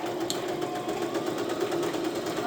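Sewing machine stitching fabric for an upcycled Y2K heart purse, a steady continuous mechanical whir running close and evenly throughout.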